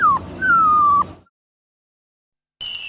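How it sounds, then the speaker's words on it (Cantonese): A dog gives several high, falling whimpers and yips close by, followed by more than a second of silence and then a thin, steady high whine. "第二位係人類同馬太歲嘅好朋友神犬"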